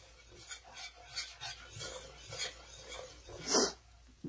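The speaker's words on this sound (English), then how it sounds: "I've got this thing at medium heat, and I'm going to sit here and stir this for a while." Faint, rhythmic scraping of a spoon stirring a pot over medium heat, repeating steadily with quiet gaps between strokes.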